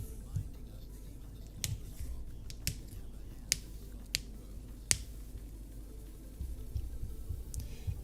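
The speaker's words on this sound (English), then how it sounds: "Do you hear when I clap with my fingers?" Several sharp finger snaps land at irregular intervals, crisp and close, over a low steady hum while someone waits at a computer.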